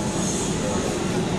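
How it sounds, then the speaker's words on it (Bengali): A Kolkata metro train pulls into an underground station with a loud, dense rumble of wheels and rails that stays steady throughout the short stretch. "এখানে ট্রেনটা ঢুকছে।"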